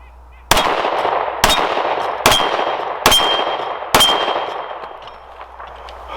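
Five sharp, evenly spaced shots from a Dan Wesson ECO 9mm pistol, each a loud crack with a metallic ring and a short decaying tail, fired alone with no talk.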